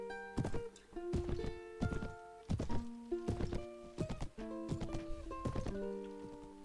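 Cavalry horses in Mount & Blade Warband, a medieval battle game, with repeated heavy hoof thuds and clatter in an irregular rhythm over a steady din of battle, fairly loud and close throughout.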